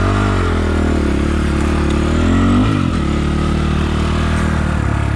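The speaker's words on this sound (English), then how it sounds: "This bike loves to run well when it's warmed up." A 2022 SSR SR300 dirt bike engine runs loud and close, warmed up, holding a steady drone with a brief rev and dip midway.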